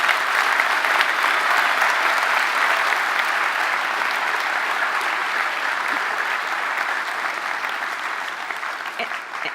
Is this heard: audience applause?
yes